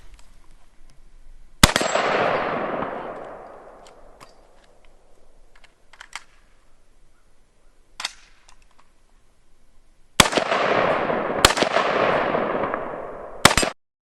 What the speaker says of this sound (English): We might just drop in a little video of me shooting it real quick.